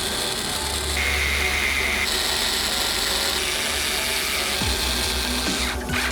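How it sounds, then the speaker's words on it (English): Shocks are screwed onto the chassis of an Axial UMG10 RC car, two screws per shock, with close, steady ratcheting clicks from a hand tool. The clicks change tone as the tool shifts and end with a few light handling noises. "Each shock is just 2 screws, a top on the shock tower and a bottom on the lower shock and link mount on the axle"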